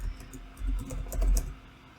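A password is keyed in on a computer keyboard, a quiet, close run of light clicky keystrokes in an uneven rhythm, with no one speaking.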